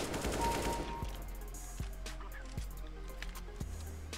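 Counter-Strike: Global Offensive gameplay with a Nova shotgun: a noisy wash of fire at first, then several single, spaced booming shots about a second apart against low background game sound.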